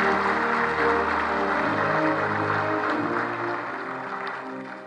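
Applause from a conference audience greeting a keynote speaker, a dense steady wash of many hands over a low tonal hum, holding loud and even before slowly fading toward the end.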